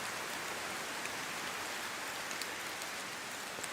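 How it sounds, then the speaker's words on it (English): Heavy rain beats against windows on a stormy night, a dense steady hiss with scattered sharper drop hits, close and constant, no voices. "It was a dark and stormy night. The rain hit the windows hard."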